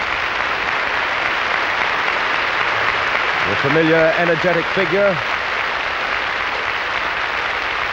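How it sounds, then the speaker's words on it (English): Burst of studio audience applause greeting a conductor's entrance onto the podium at a 1948 NBC Symphony broadcast, a steady wash of clapping under a male announcer's voice. "His entrance a signal for a burst of instantaneous applause from our audience."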